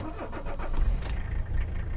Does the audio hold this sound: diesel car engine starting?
yes